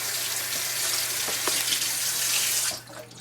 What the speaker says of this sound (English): Rinse my hand again